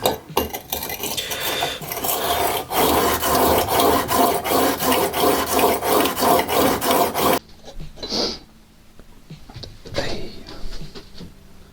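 A plane blade bevel being ground on a Stanley sharpening system, a loud, steady back-and-forth rasping in regular strokes for about seven seconds, close up, followed by a few quieter scrapes and handling sounds.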